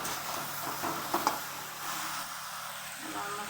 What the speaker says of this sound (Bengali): মশলা দিয়েছি, মশলার সাথে বেগুনের ভেজে নিচ্ছি।